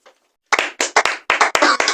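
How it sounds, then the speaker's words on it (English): A short burst of people clapping for a dad, several sharp close hand claps in a quick uneven rhythm after a brief silence. "Clap for your dad."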